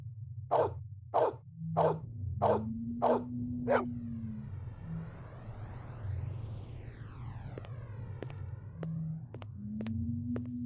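A pet dog in the Blade Runner video game barks in a quick run of six sharp, close barks, followed by a sweeping synthetic whoosh and sparse clicks over a low electronic hum.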